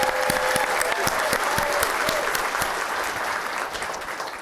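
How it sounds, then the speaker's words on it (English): A civic audience at the Murrieta State of the City 2022 event applauds steadily, a dense wash of clapping with sharper individual claps, holding strong for several seconds before easing slightly. "A huge round of applause."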